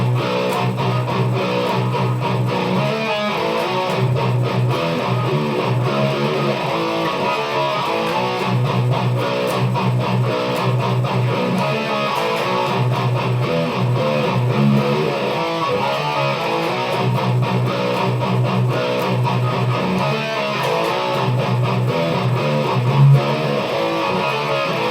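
An electric guitar plays a breakdown at a slowed tempo, with heavy distorted chugging riffs that repeat steadily for about twenty-five seconds, close and with no talking.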